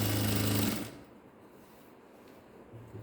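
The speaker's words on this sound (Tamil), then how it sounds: "நான் தைக்கிறேன்" Sewing machine stitching elastic into a ladies' pants waistband, a loud fast mechanical whirr for nearly a second, then quiet, and a short burst starting again at the end.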